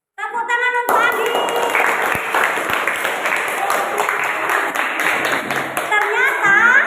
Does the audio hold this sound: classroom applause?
yes